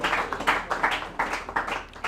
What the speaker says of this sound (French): On applaudit pour Mwaka.